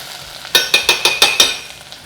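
Pork scotch fillet steak cooking in a pan, with a run of six sharp, evenly spaced hissing bursts of sizzle. The bursts are close and loud, then fall back to a faint crackle.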